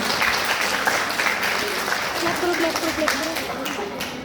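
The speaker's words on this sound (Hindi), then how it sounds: "फिर एक बार जोरदार तालियां बजाइए आप अपने" Steady applause from a crowd at an International Women's Day event, continuous and fairly loud throughout, with a voice speaking in Hindi over it.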